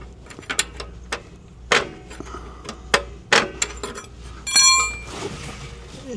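Ratcheting brake adjuster on a Workhorse truck brake being turned, giving a string of sharp metallic clicks and clinks at irregular intervals, close and fairly clear with little else around.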